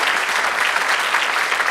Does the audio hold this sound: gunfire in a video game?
no